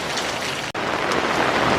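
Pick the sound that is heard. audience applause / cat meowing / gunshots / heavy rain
heavy rain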